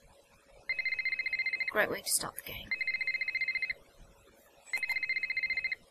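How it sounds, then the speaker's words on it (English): An old-style telephone bell rings in the Nancy Drew game Ghost of Thornton Hall, rapid trilling bursts repeating three times with pauses, loud and close, while someone talks briefly between rings. "Phone's ringing."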